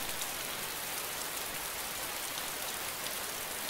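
Steady rain in the DayZ Standalone video game hissing across the whole clip, an even broadband wash of falling drops with no talk over it.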